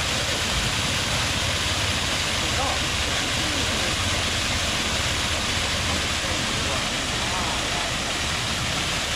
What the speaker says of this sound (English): We could just about step off into that waterfall.